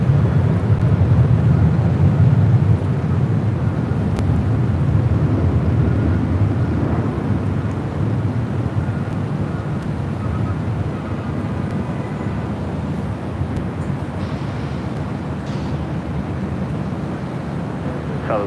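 An Air Canada A321 airliner at LAX passes as a continuous loud broadband roar and rumble that holds steady and eases slightly over time, with no speech.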